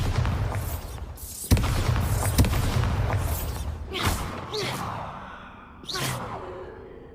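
Bombarda explosion spells cast in the Hogwarts Legacy game, a series of sharp booms and whooshing blasts, one striking at about 1.5 seconds and later bursts at roughly 4 and 6 seconds, over a rumbling game background.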